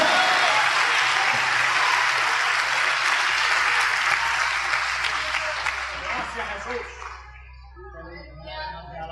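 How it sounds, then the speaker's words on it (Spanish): Church congregation applauding during a sermon, a loud sustained roar of many clapping hands that gradually thins and fades out over several seconds, leaving faint scattered sounds. "Denle un aplauso al Señor Jesucristo."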